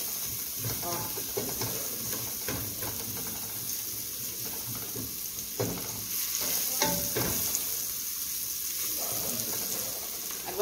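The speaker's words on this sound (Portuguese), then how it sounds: "Vou dar aqui uma refogadinha na cebola, ó." Onion sautéing in a pan for a crab and pirão dish, a steady close sizzle running throughout with the scrape and clink of a utensil stirring at intervals, no talk.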